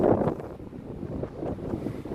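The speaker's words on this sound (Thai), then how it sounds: "ได้ยินเสียงลมพี่น้อง" Strong wind buffets the microphone while riding a bicycle for exercise abroad, a steady low roar with gusty swells across the whole stretch and no speech.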